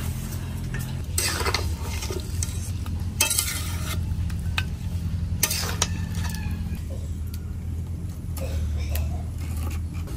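Duck meat tossed with spices in a pan gives a continuous low sizzle, broken by several scraping stirs and clinks of a metal spoon against the pan, heard up close.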